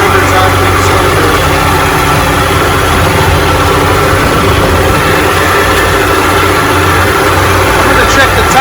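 A 1994 Evinrude 90 hp outboard motor runs steadily as it is left to burn off its fuel, with a constant low engine drone and people talking over it.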